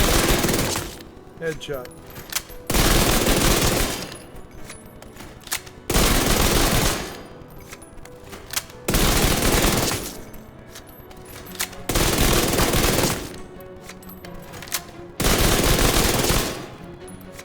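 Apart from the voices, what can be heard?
Vector submachine gun firing in Division 2 video game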